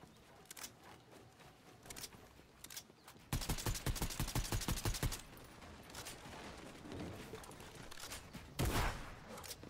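Rapid bursts of automatic gunfire from the battle royale video game Fortnite, loud and dense in the middle, with scattered shots before and a final burst near the end, no talking.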